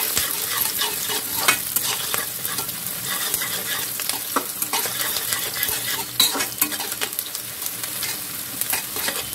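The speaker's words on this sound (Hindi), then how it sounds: "प्याज खुल जाएगी गर्म होके," Onions for chowmein stir-fry in a hot pan, with a continuous sizzle broken by scraping and clinking as a utensil stirs them. The cooking sounds are close and moderately loud, and no one speaks.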